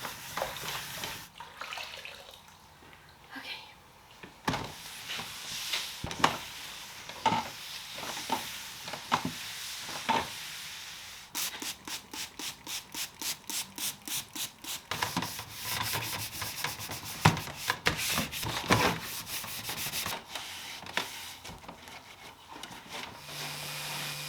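Scrubbing grease and grime off an old wooden furniture top being upcycled, a close, steady back-and-forth rubbing with uneven strokes, then a run of fast, even scrub strokes, with no talking.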